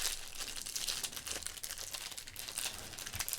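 Close, steady crinkling of a tightly wound plastic wrapper on a sports card pack, with dense crackling bursts running the whole time and no voices.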